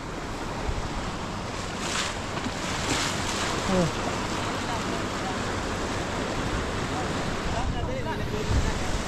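Steady wash of surf-like water noise from a suddenly flooding river, with wind buffeting the microphone and faint voices now and then in the background.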